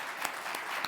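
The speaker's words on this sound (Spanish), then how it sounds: "un aplauso para ellos" Brief, fairly faint applause from a conference audience, an even patter of clapping lasting under a second with a few sharper claps standing out.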